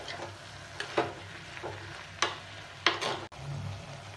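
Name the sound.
sautéing ridge gourd with salt in oil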